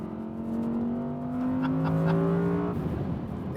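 A 2020 facelift Audi R8 V10 Performance on the Ascari racetrack, its engine revving loudly with a climbing, sustained tone and steady power throughout, no talk over it.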